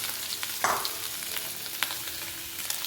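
Sausages fry in hot oil with a steady, even sizzle, broken by a couple of light clinks from stirring.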